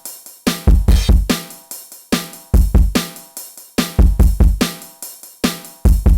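A drum beat with kick and snare hits repeating in a loop, topped by splashy cymbal crashes that ring out bright and loud.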